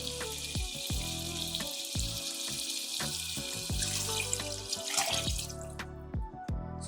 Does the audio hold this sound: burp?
no